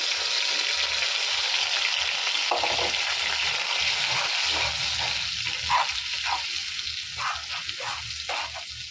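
Black cumin (nigella) seeds sizzle and fry in hot oil in a pan, a steady close hiss with brief crackling bursts and occasional stirring sounds, no talking.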